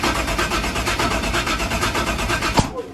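A Chevy S10 no-prep drag car engine cranks with a fast, rhythmic churning pulse, loud and close. Near the end it gives one sharp backfire pop, and then the cranking drops away.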